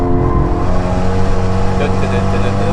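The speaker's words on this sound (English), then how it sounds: "We can hear upshift, downshift." Abarth or Megane R.S. car engine running on the Nürburgring, a steady close in-car drone with layered harmonics and slight pitch shifts, no clear gear change, continuous throughout.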